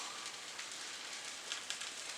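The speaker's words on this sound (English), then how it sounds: "I don't know if you can hear the sizzle" Hot syrup poured over lemon bread gives a soft, steady crackling sizzle that hisses throughout, with faint pops here and there, quiet and close.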